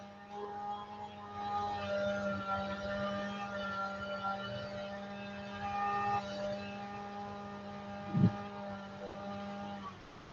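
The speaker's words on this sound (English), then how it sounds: "Sorry, somebody's weed eating outside." A weed eater running outside, heard indoors as a faint, steady engine drone with a constant whine that holds throughout, broken only by a brief knock near the end.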